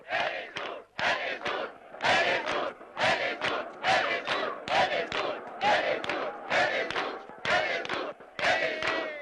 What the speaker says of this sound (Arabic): ولازم اللعيبه تسمع زئير الجماهير.